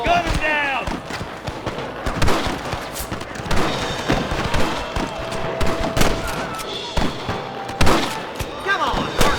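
Rapid, overlapping gunshots ring out in a Red Dead Redemption shootout, loud irregular cracks and bursts coming from several directions, with voices shouting in between.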